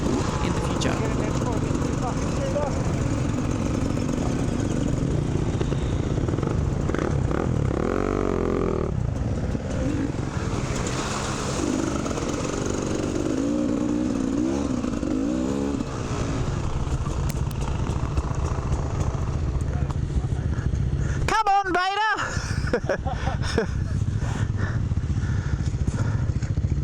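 Two-stroke dirt bike engines drone steadily and loudly throughout a fundraising trail ride, with only a brief dip near the end.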